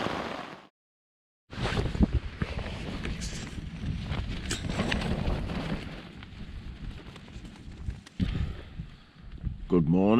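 Steady blustery wind buffets the microphone at a tarp campsite in a storm, with rustling and a few knocks and footstep-like thumps; a brief dropout interrupts early on.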